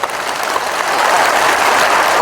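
Loud, sustained applause from an audience at a public address event, broad dense clapping that swells and holds steady throughout.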